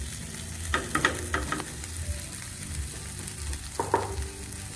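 Boiled potatoes fry with spices for a mirchi vada filling, a steady close sizzle punctuated by a few scraping stirs against the pan.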